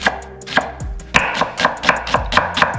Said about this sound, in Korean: 드레싱에 들어가는 거기 때문에 가급적 이렇게 좀 잘게 잘라주시고요